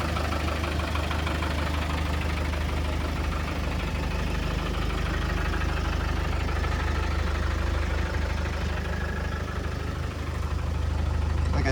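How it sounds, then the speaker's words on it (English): A 1989 Land Rover Defender 110 with a 300TDI diesel engine idling, a steady, loud, close rumble with a rapid knocking clatter that holds constant throughout with no voices. "Like I said, it's a diesel."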